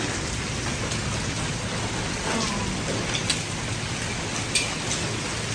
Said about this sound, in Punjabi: ਹਨੇਰੀ ਆ ਗਈ ਠੱਕ ਠੱਕ ਗੜੇ ਵੱਜ ਰਹੇ ਨੇ